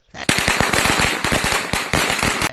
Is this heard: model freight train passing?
no